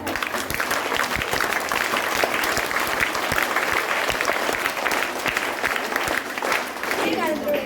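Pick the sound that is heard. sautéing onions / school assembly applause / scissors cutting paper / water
school assembly applause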